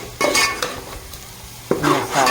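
Meat and masala frying in oil in a home kitchen, a steady sizzle broken by a few loud scraping stirs of a spoon against the pot, close and with no voices.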